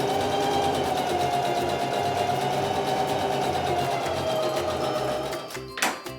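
A sewing machine stitching back and forth over elastic on a fabric face mask: loud, steady mechanical whirring for several seconds, then slowing and stopping with a couple of brief clunks at the end.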